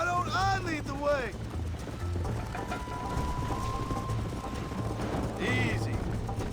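Horse hooves clip-clop on the ground in the Red Dead Redemption video game, a steady rhythmic clatter running under a voice that talks to the horse, with mechanical creaks in the background.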